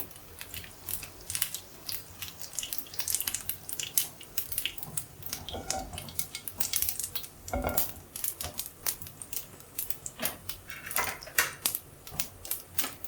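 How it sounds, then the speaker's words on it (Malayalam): Close, rapid crackling and popping bursts irregularly and continuously, like mustard seeds spluttering in hot oil, with no voices. "കടുക് പൊട്ടി വരുന്നുണ്ട്"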